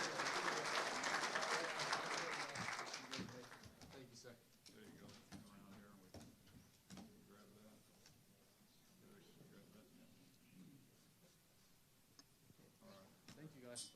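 Audience applause at an athletic hall of fame awards ceremony for student athlete scholarship recipients, a loud burst of clapping in a large room that fades after a few seconds into quieter murmuring and scattered sounds.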